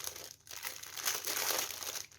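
A plastic bag of frozen mixed vegetables crinkles and rustles continuously up close, loud and uneven, with a short pause near the start.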